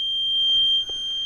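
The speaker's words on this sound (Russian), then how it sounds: "Так, выключить пищалку." Buzzer beeping in a Volkswagen Passat B3 during electrical repair, one steady high-pitched electronic tone held without a break.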